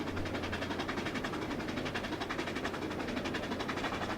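A train rolls over a bridge at about 35 to 40 miles an hour, giving a continuous rumbling clatter with rapid regular rhythmic beats and a low engine hum throughout.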